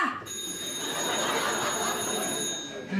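A telephone's continuous electric bell rings steadily for about three seconds, loud and close, then cuts off.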